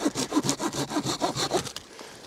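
A folding saw rasps through the end of a wooden canoe paddle in a steady run of about a dozen quick back-and-forth strokes, close and clear, stopping abruptly near the end with no talking.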